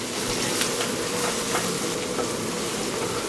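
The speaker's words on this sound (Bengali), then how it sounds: "এখন এখানে 1 কাপ পেঁয়াজ কুচানো দিয়ে দিচ্ছি। পেঁয়াজগুলোকে জাস্ট হালকা একটু ব্রাউন করে ভেজে নিতে হবে।" Chopped onions frying in a pan until lightly browned, a loud, dense, continuous sizzle heard up close with no talk.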